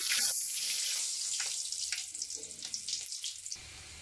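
Garlic frying in about half a cup of very hot oil makes a loud, sharp, spattering hiss at first, then settles into a steady crackle with small popping bursts.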